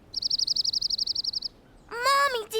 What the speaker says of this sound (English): Caillou was startled and excited to hear the bird chirp.